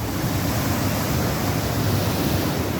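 Sea waves surge in a continuous, loud wash of surf, a dense hissing roar that never lets up, with no voices.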